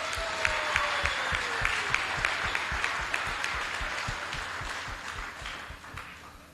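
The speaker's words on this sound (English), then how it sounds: "So huge round of applause" Audience applause at a motorsport drivers meeting dinner, steady close clapping of a modest crowd lasting several seconds and slowly fading toward the end.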